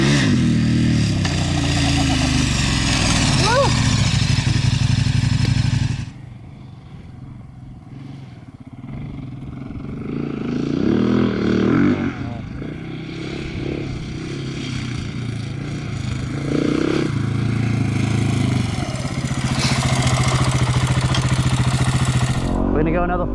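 A Yamaha WR250R motorcycle engine revs hard going downhill in the desert, loud and close, with throttle surges rising and falling over about twenty seconds and a brief dip in the middle.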